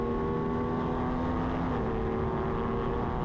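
Lightweight Supersport racing motorcycles at Blackhawk Farms Raceway make a steady engine drone, a sustained whine that holds at an even, loud level and shifts pitch partway through as the bikes run the circuit.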